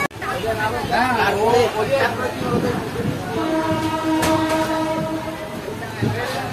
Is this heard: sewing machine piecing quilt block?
no